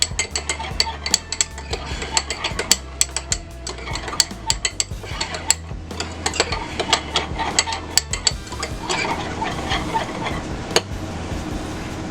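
Thousand Island, Dijon mustard and sriracha being mixed together, a busy run of clinks, scrapes and taps of a utensil against a container over a low steady hum, close and moderately loud.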